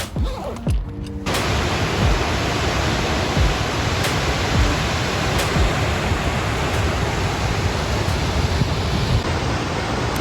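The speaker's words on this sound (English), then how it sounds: "We hiked to Mystic Falls that you can hear in the background" Steady, roaring rush of falling water at Mystic Falls in Yellowstone fills the whole stretch, broadband and constant, with a brief shuffle of movement at the start.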